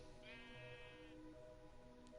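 Sheep in a Minecraft-style building game letting out one drawn-out bleat over a steady background hum, fairly close and clear with no talk.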